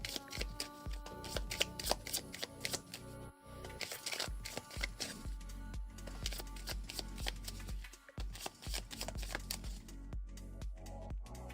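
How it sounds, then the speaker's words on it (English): Playing cards for the Veilwraith board game are shuffled by hand near the listener, with dense riffling bursts and soft slaps repeating across the whole stretch and only brief pauses between them. "We're going to shuffle these cards back into our pile."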